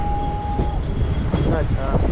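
A MEMU express train rolls into Pollachi junction station with a steady rumble of wheels and carriage noise heard from on board, a brief whistle-like tone at the start and faint voices underneath.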